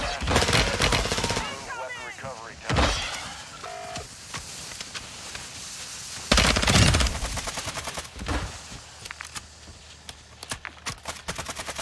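Rapid automatic gunfire aimed at enemies in the Call of Duty DMZ video game comes in sharp bursts and scattered single shots, with voices talking between them.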